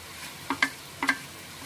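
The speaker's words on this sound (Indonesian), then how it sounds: "kita aduk sebentar saja" Fried fish fillet and broccoli stirred briefly in a pan, two pairs of quick spatula scrapes over a low, faint sizzle, no voices.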